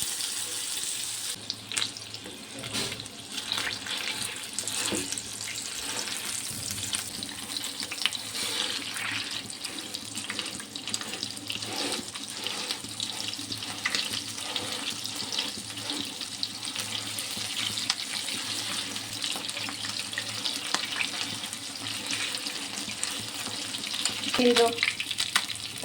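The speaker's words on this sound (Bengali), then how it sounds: "গরুর মাংসটা ভাজার জন্য একটা প্যান বসিয়ে দিয়েছি, এটা গরম হয়ে গিয়েছে।" Beef pieces frying in hot white oil in a pan, a steady broadband sizzle running throughout at moderate level with occasional small clatters, no talk over it.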